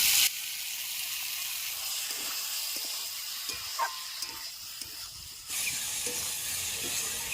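Shrimp sizzling in a pan with bottle gourd and potato, a steady soft hiss of frying with small pops and a slight rise in intensity near the end.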